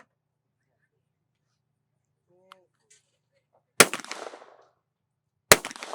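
Two sharp shotgun blasts ring out at a youth team shootoff, the first near 3.8 seconds with a rolling echo tail and the second near 5.5 seconds, both loud against near silence apart from a faint brief sound before them.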